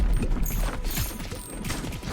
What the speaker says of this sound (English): Just sounds like gunshots, you know?